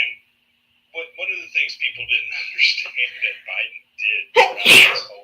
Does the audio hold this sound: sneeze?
yes